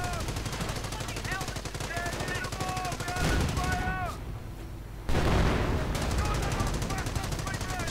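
Rapid gunfire and machine-gun bursts rattle through a real-time strategy video game battle involving stormtroopers and armor, with a dense crackle of shots and a few heavier booms, while a commentator talks over the action.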